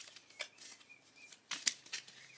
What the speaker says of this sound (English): I have my Alice deck, so we'll use this one and see what we get. All right, I just want to shuffle real quick.